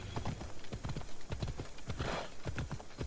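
Hooves of a horse in a video game clip-clop in a steady, brisk rhythm, close and fairly loud, with a brief breathy rush partway through and no talk.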